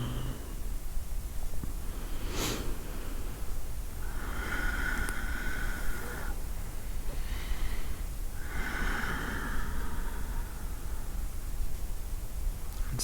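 Slow, deep breaths in and out during a yin yoga pose, close and steady over a constant hiss of background noise, with long drawn exhales.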